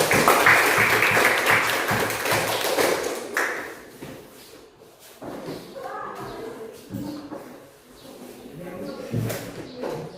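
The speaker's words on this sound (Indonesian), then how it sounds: "Beri tepuk tangan untuk" A classroom group in an Indonesian language lesson gets applause after their presentation, dense clapping for the first three seconds that thins out as voices take over and chatter continues.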